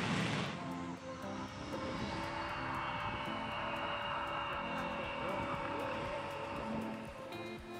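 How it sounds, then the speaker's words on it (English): Avro Vulcan XM655 bomber heard from close by as its jet engines spool up during a taxi run, a loud steady roar with a rising whine that fills the whole stretch, and faint voices beneath it. "We were right up close to the aircraft when it started up"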